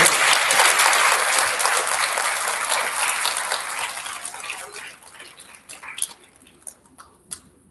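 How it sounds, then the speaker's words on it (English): An elementary school audience claps for second graders at a student recognition ceremony, loud dense applause that gradually thins out, ending in a few scattered, isolated claps. "Let's have a big round of applause for our second graders."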